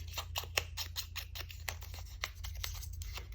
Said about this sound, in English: I'm going to just crumple this up a little bit